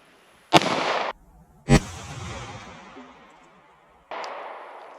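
Three sharp 9mm gunshots from a Glock 19X pistol ring out outdoors, hitting an old brick, spaced apart, each with a loud crack and a lingering echo.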